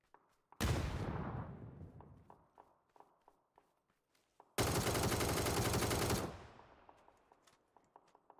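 Automatic rifle fire in PUBG: two sustained sprays of rapid gunfire, the second longer and harsher, loud and close, with light footsteps pattering in between and afterward.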